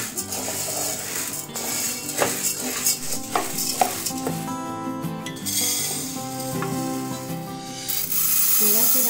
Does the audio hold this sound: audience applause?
no